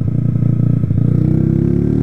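A 2008 Honda CG 125 Fan motorcycle engine idles with a rough, pulsing clatter, then revs up briefly with a rising hum, close by and loud, no talking.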